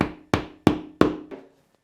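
A plastic drywall anchor is knocked into drywall with the handle of a screwdriver: four sharp, evenly spaced knocks up close, then a fainter fifth tap, with no talking.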